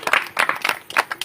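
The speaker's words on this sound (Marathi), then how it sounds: "टाळी वाजवून देवाचा गौरव करा" Hands clap in a quick, uneven burst of several claps close by at a church prayer gathering, glorifying God.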